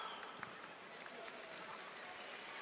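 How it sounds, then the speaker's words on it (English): Faint, distant audience applause fills a sports hall at a football legends tournament, a soft continuous patter of many hands under a general crowd murmur. "Big applause"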